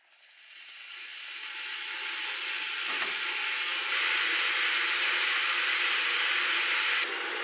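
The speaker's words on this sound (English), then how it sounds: "So while the kettle is boiling over there so noisily" An electric kettle heats noisily in a home kitchen, a broadband rushing hiss that swells over the first few seconds and then holds at a steady roar, with no talking.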